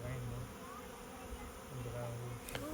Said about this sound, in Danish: når alle bierne har samlet sig i den lille småfamiliekasse